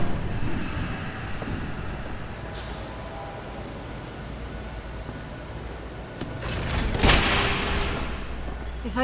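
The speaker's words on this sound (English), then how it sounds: "There's a train coming. Take cover." Train rolling past in the video game Batman: The Telltale Series, a steady low rumble of wheels on track with a swelling roar and a brief metallic swish near the end.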